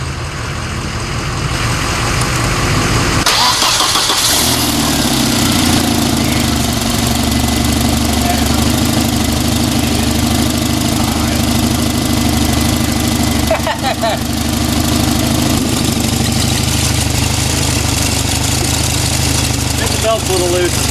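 A 1994 Volvo 940 Turbo wagon engine cranks and catches, then settles into a loud, steady idle with a slightly rough, knocking rumble and a loose belt, heard up close.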